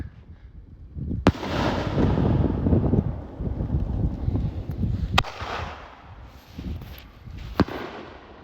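A fireworks cake fires in the open: three sharp, loud launch pops spaced a few seconds apart, each followed by crackling, rumbling bursts that fade away with some wind noise.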